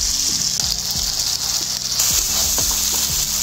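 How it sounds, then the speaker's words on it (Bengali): Fried soybeans tipped into hot spiced oil for soybean do pyaza, a steady close sizzle with popping crackles and a brief surge of hiss partway through. "ভেজে রাখা সয়াবিনগুলো দিয়ে দিচ্ছি"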